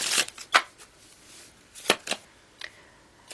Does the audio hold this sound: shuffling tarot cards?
yes